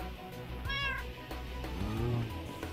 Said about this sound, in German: Da, Siamkatze.